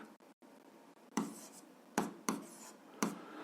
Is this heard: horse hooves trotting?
no